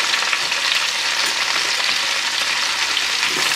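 Onions, root vegetables and tomato paste roasting in a hot pan, a steady dense sizzle and crackle with light stirring scrapes, loud and close throughout with no voices.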